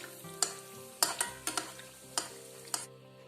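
Coconut-filled buns fry in hot oil with a soft sizzle, broken by several sharp clinks and scrapes from a utensil turning them, close and without voices.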